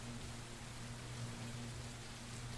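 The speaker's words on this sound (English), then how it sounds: "Just watching the rain hit the window." Steady soft hiss of rain hitting a window in a video game scene, faint and continuous with a low background hum, no voices.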